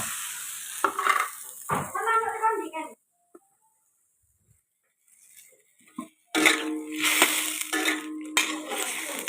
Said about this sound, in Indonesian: Jadi ini kita masukkan telur puyuh.